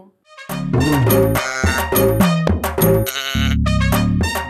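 Sheep and goats bleat loudly and repeatedly at a crowded livestock market, overlapping wavering cries following one another almost without pause, close and prominent.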